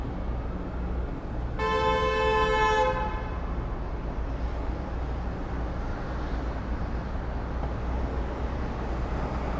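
One loud car horn blast lasting about a second rings out early on a winter street in Toronto, then only steady road rumble continues.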